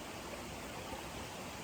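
A creek on the Appalachian Trail near Shenandoah flows with a steady, even rush of water that stays constant and fairly soft throughout, with no voices.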